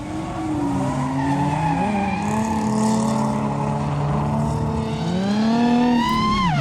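A drift car rounds a track corner with continuous loud tire squeal and a high engine whine that rises and falls through the slide, climbing sharply again near the end.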